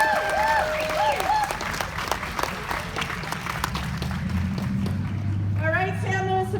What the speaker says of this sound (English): please give a warm round of applause to our first speaker, Dawn Addis of Women's March Slow